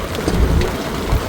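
Heavy rain pours down steadily in a forest at Dhikala, with a low thunder rumble swelling beneath the dense, close hiss of falling water.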